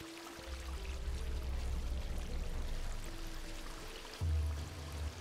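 Continuous flowing water in the video game Stray, a steady rushing wash with a low drone underneath, fairly quiet and without voices.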